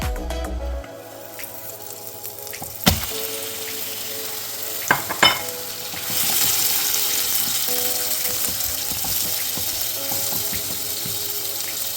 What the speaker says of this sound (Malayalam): എണ്ണ ചൂടായി വന്നിട്ടുണ്ട് അതിൽ നമുക്ക് നമുക്ക് ചെമ്മീൻ ഇട്ട് കൊടുക്കാം